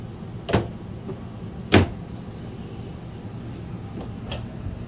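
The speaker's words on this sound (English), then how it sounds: "One more cabinet drawer off to the side." Two sharp knocks from a kitchen cabinet drawer in a 2021 Forest River Salem Hemisphere 270FKS travel trailer, the second louder, followed by a few fainter taps against a steady low background hum.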